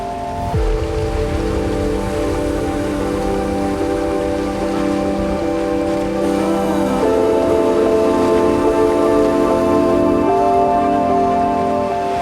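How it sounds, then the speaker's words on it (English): A rain squall sweeps over a sailboat at sea, giving steady heavy rain drumming on the deck and canvas dodger along with continuous wind and rigging noise and no pauses. "Just got a little squall going by us right now"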